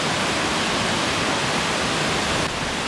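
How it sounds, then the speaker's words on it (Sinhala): Nuga Deka Ella, a twin waterfall in the Sinharaja rain forest, with water pouring down over rock in a loud, constant, broadband roar that stays unbroken throughout. "නුග දෙක ඇල්ල කියන්නේ අතනේ වතුර වැටෙන්නේ ගලකුසේ එනවා"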